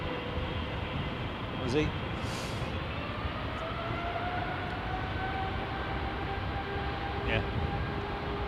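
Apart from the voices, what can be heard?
Qatar Boeing 777 engines spooling up at Heathrow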